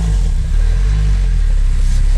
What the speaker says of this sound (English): you'll hear the engine revving at higher RPMs, not engaging drive